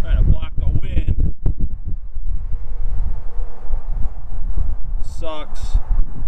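Gusty wind buffets the microphone outdoors beside a 6.7 liter Super Duty truck during an oil change, a steady low rumble running under a man's brief spoken remarks.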